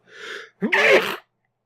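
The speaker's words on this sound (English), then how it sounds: "That would have been a really loud sneeze had I not at least been able to catch it that way." A sharp gasping inhale followed by a loud, close sneeze, one single burst partly muffled as if caught in the hand.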